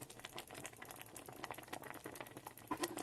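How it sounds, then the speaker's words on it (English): Milk and vermicelli simmer in an electric kettle, bubbling and popping in a quiet, irregular stream of small bursts close by. "Let it get boiled properly with the milk."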